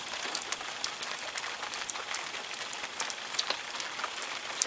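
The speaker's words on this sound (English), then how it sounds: "It's raining here in Middle Tennessee." Rain falling in Middle Tennessee, a steady wash of drops with scattered sharper taps on a surface, constant and moderately close, with no voices.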